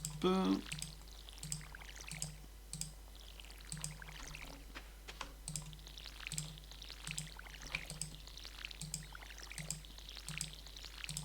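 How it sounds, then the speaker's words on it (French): Watering crops in Stardew Valley produces a series of short, soft pouring splashes in a regular rhythm, repeated many times over quiet, tonal game background music. "Hop, tout est arrosé, c'est parfait."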